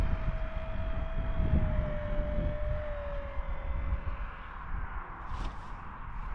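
A model A6M2 Zero airplane's small engine drones steadily overhead with a slowly falling pitch as it passes, flying with the wind, over a rushing wind noise.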